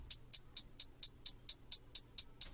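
Hi-hats in a drum beat at full volume tick in a steady, even pattern of about eleven crisp, bright hits, close and alone.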